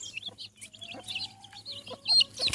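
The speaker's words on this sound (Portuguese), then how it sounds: "Peguei os pintinhos dela pra trazer ela pra cá" A hen clucking close by with her chicks, soft repeated clucks and thin high peeps scattered over a couple of seconds.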